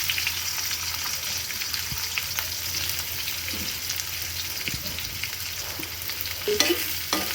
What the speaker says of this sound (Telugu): ఈ ఆనియన్స్ గోల్డెన్ బ్రౌన్ అయ్యే వరకు వేయించాలి.